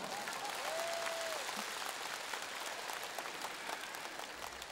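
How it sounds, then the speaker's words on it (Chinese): Audience applause during a Buddhist Dharma talk in Hong Kong, a steady wash of clapping from many hands that fills the whole stretch, heard from a distance with no words spoken. "鼓掌。"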